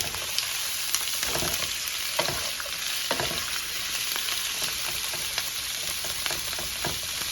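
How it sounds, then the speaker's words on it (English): Shrimp sizzle steadily in a hot pan, a dense crackling hiss with small pops, fairly close and continuous, no voices. "Listen to that sizzle."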